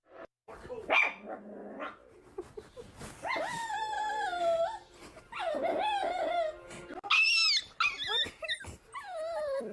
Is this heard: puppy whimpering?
yes